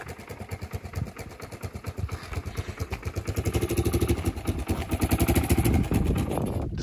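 An engine rigged to run on its own exhaust idles unevenly, a rapid rhythmic clatter of firing pulses that grows louder and steadier toward the end, heard close and alone.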